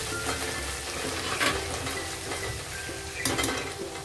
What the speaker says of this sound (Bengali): সব পেঁয়াজগুলো দিয়ে দিলাম, দিয়ে ভালো করে ব্রাউন করে ভেজে নিতে হবে।